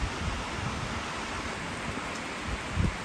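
Steady rain falls outside a barn, a constant broadband hiss that stays even and fairly loud throughout, with a faint thud or two near the end.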